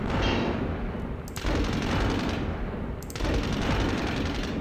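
Sustained gunfire aimed at tanks in the wargame Advance of the Reich, a dense continuous rattle with two sharp louder bursts breaking through, loud and close, with no talk.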